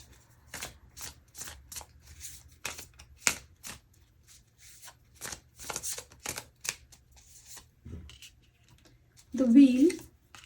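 Tarot cards being shuffled in a run of quick crisp riffles and flicks, fairly close, with a louder burst of handling near the end and soft talk in between.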